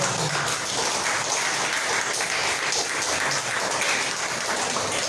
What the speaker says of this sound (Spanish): Dense un aplauso a ustedes por ser fieles.